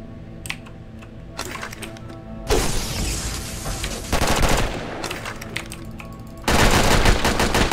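Heavy gunfire in the game Red Alliance, loud rapid automatic bursts arriving in several waves with sharp cracks and clatter between them.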